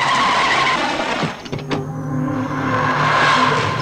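A car brakes hard to a stop, its tires skidding and squealing loudly over the continuous road and engine noise, with no voices.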